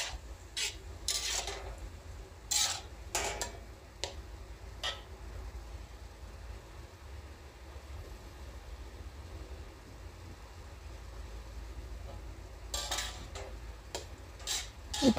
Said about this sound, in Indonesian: Kita aduk-aduk lagi dan ditunggu sampai benar-benar matang.